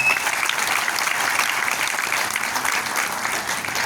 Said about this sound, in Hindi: मिस्टर प्रमोद पाटिल साहब के लिए जोरदार ताली होनी चाहिए, जोरदार।